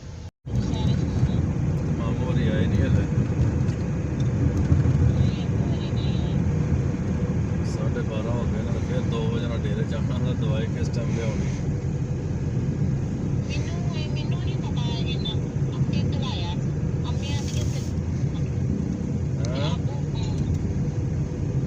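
Road traffic heard from inside a moving vehicle in Manila: a continuous low engine and road rumble, steady and fairly loud.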